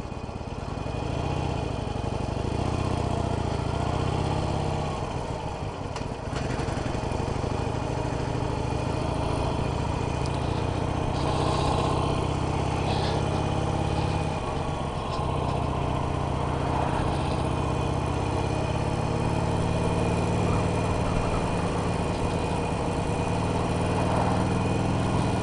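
A new Harley-Davidson 883 Iron motorcycle idles steadily nearby, its low engine rumble continuous and even for the whole stretch with no talking.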